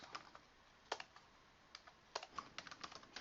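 Computer keyboard keys tapped in short irregular bursts while a folder name is entered, clicks close and fairly quiet with brief pauses between clusters, no speech.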